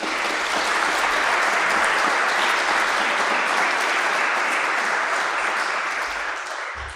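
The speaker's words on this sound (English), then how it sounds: "If you could also give him a round of applause." A large audience at a church apologetics conference debate gives a sustained round of applause for a speaker, dense and loud throughout, tapering slightly at the end.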